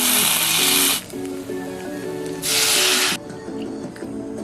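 Olive oil and tomato paste go into a hot pan for Haitian griot, giving two loud bursts of sizzling hiss about a second apart. A steady low tonal hum sits underneath the whole time.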